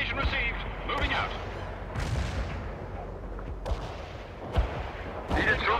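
Artillery fire in the World in Conflict strategy game booms in repeated heavy blasts and rumbling impacts, some near and some distant, under radio-style unit voices.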